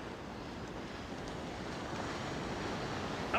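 Ocean surf breaking on a beach during shore fishing: a steady, faint wash of rolling waves with a slight swell toward the end, heard alone without any voices.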